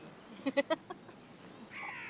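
Crows caw near a beach, three or four harsh calls in quick succession, then a short gap before a brighter, noisier burst at the end.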